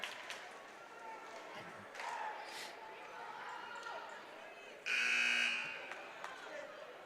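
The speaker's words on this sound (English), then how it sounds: "I just heard a 25-second buzzer." A loud electronic shot-clock buzzer blares for about a second amid the squeak of sneakers, bouncing balls and distant crowd chatter during a girls' high school basketball game in a gym.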